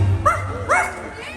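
A cartoon dog, Zero from Disney's Halloween fireworks show soundtrack, gives two short yipping barks about half a second apart, heard clearly over a low hum of rain and crowd, with a voice speaking faintly underneath.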